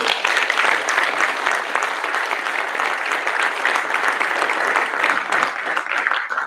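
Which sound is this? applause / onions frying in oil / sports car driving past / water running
applause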